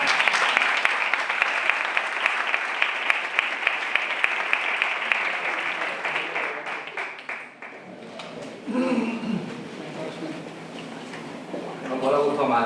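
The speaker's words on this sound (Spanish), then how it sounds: "Con un fuerte aplauso" A crowd at an open-air poetry event in Albolote, Granada applauds loudly for an encore, a sustained wash of clapping that fades after about seven seconds into murmuring talk.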